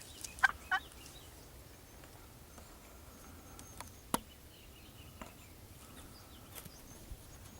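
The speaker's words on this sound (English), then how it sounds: "a gobble" Wild turkey gobbles sound faint and distant in a quiet outdoor setting, two quick bursts near the start, followed by scattered soft clicks and rustles.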